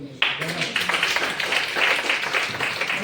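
Audience at a DTM training meeting clapping together in a steady crowd patter, moderately loud and sustained for a few seconds after a sharp start, with some faint voices mixed in.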